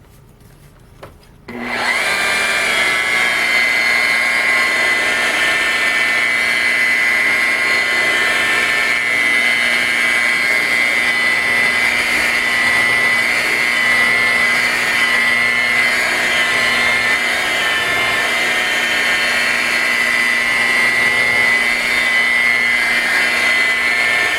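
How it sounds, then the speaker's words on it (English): A polisher spins steadily while buffing a car headlight with toothpaste as the polish compound, a continuous close whirring drone that starts abruptly after a quiet second and holds level with no talk. "as the polisher spins, the polish will work its way out to the perimeter"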